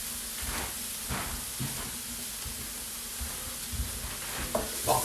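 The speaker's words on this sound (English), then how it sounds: "So you want to get them onions and then mushrooms in there and get all that residue" Onions and mushrooms frying in a pan with pork chop residue, a steady close sizzle with occasional stirring scrapes and clatter throughout.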